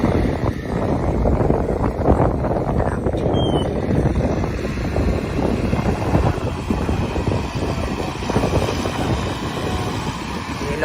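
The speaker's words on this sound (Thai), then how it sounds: "โกรกมากครับลม" Strong wind roars steadily and close into the microphone outdoors in rural Thailand ahead of rain, a constant broadband rush with gusty buffeting throughout.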